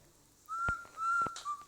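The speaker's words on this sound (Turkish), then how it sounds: "Müdür ıslık çalarak geliyor." A few short whistled notes, high and clear, repeated in a bouncy pattern against a quiet background: the principal character whistling in the video game Baldi's Basics.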